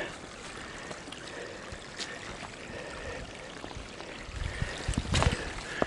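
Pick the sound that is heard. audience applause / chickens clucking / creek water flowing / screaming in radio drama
creek water flowing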